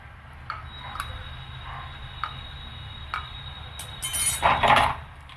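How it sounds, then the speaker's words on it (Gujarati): A spoon stirs pav bhaji vegetables with grated beetroot in a metal pot, giving light scattered clinks against the side, then a louder scraping, rattling burst toward the end. "હવે ચમચી વડે હલાવી લેશું."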